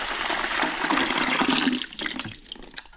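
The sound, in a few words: water filling a portable ice maker reservoir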